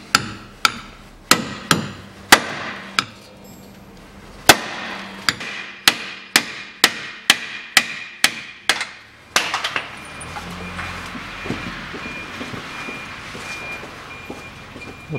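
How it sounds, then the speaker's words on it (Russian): A rear suspension bushing on a Toyota Harrier is driven out with a hammer striking a 27 mm socket: about fourteen sharp metallic blows in an uneven rhythm, close and loud, then a quieter scraping clatter. "Я возьму, выбью его той же самой головкой на 27."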